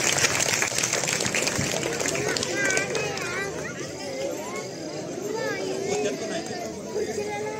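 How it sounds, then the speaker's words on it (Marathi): Audience applause at a children's karate demonstration held by a Bal Ganesh Mandal in Budhgaon, a steady wash of clapping with excited voices and shouts rising over it throughout. "जोरदार टाळ्या वाजवायच्या आहेत"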